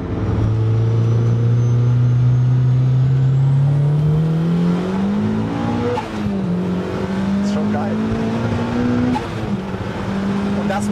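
A Mazda MX-5 race car engine revs hard and freely, its loud droning note climbing steadily, dipping briefly at a shift and rising again, with voices talking underneath.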